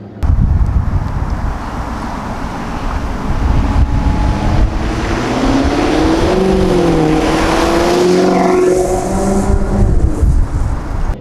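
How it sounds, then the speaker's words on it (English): A Maserati GranTurismo Sport driven in sport mode, its V8 exhaust droning loud and steady, then rising and falling as the car accelerates and shifts near the end. "let's go for a drive in sport mode in the GranTurismo Sport"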